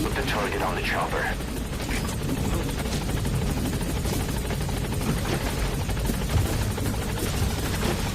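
A helicopter in Metal Gear Solid V: The Phantom Pain, its loud, steady rotor chop running throughout, with game voices talking over it.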